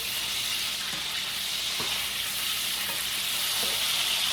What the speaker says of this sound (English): while your potatoes are cooking, you can work on your bacon